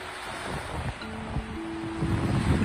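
Ocean surf rolls steadily onto a beach at night on Hilton Head Island, South Carolina, a continuous broadband wash with wind noise on the microphone, swelling slightly louder toward the end, no talking.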